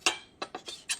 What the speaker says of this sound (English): you can also just trim that out if you want by taking your knife and just running it down at that angle